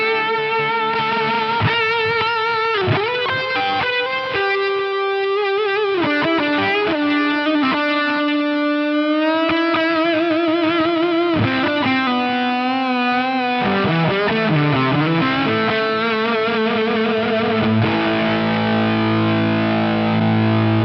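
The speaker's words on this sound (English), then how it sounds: "a compressor and a fuzz together would be something that would give me that particular sound" An electric guitar runs through compressor and fuzz pedals with long sustain, playing bluesy bends and melodic lines in a loud, distorted, harmonically rich tone that continues steadily throughout, heard alone.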